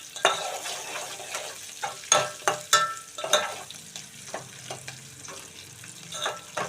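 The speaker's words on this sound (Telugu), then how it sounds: "కొంచెం వేగనిద్దామండి ఉల్లిపాయలు పచ్చిమిరపకాయలు తాలింపులో" Sliced onions and long-cut green chillies stir-fry in a hot tempering for ivy gourd and tomato curry, with a steady soft sizzle and repeated scraping, clinking stirs of a spoon against the pan.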